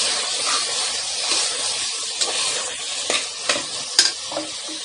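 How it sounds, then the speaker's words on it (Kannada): Tomatoes sizzle and hiss loudly in a frying pan while a spoon stirs them, sharp scraping clicks growing more frequent toward the end, with no voices heard. "ಹಾಕಿ ಚೆನ್ನಾಗಿ ಮಿಕ್ಸ್ ಮಾಡ್ಕೊಳ್ಳಿ"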